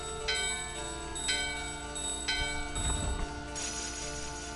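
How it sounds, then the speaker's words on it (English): A bell in Final Fantasy 9 rings out in three evenly spaced, clear strikes over steady game music, each tone ringing on and fading. "I think if I ring this bell."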